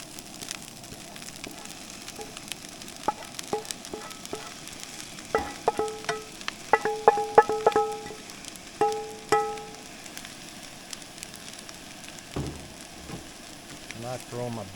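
Fried rice with barbecue pork being stirred in a pan while camping in an Arctic Fox truck camper, with a soft sizzle under scattered scraping and clinking utensil strokes, close and moderately quiet.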